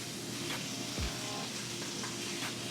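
Taco meat frying in a pan gives a continuous close sizzle, steady and even, with one brief low knock partway through and no speech.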